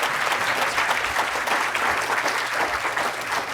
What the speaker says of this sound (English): Let's keep giving some more applause to this incredible panel